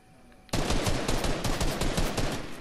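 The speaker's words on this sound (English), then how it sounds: "Who's shooting at us?" Video game gunfire bursts in abruptly after a quiet half second, a dense, loud, rapid automatic stream of shots that carries on steadily to the end.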